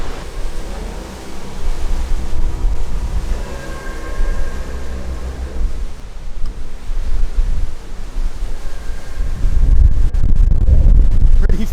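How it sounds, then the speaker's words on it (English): Strong hurricane wind of about 60 mph buffets the microphone with low roaring rumbles and gusts that swell and ease, growing heavier toward the end. "So it's very gusty. It's like 60-mile-an-hour winds."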